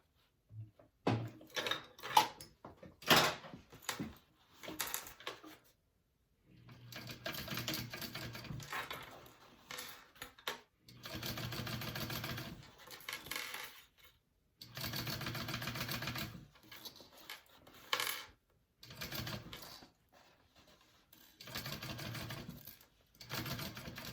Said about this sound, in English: Press my seam towards the zipper and sew that down.